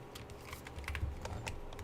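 Brisk keystrokes on a SteelSeries mechanical keyboard, a quick cluster of sharp clicky taps close by and fairly quiet, with no voice present.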